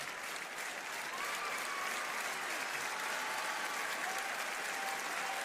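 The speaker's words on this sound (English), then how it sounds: "WWE fans applauding this great matchup for the Women's Intercontinental title." A large WWE wrestling crowd applauding steadily after a Women's Intercontinental title match, dense clapping that fills the whole stretch at a constant, loud level with no talking.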